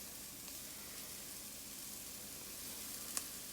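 Lean ground turkey broken into a hot pan for a quick chili, giving a steady, even sizzle of frying meat throughout, close and moderately loud, with a small clink near the end and no talk.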